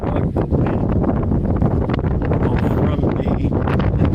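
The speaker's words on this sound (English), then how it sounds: "You hear how windy it is?" Strong outdoor wind buffets the microphone, a loud continuous rumbling roar with gusty surges throughout.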